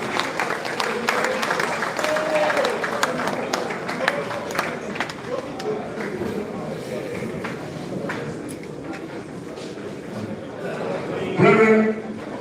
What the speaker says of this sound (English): Applause, brethren.